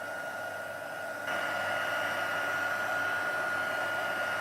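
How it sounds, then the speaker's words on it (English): A craft heat tool blows steadily across cardstock with a continuous whooshing hiss that turns louder partway through, heard close with no talking. "So if I just run the heat tool on the other side."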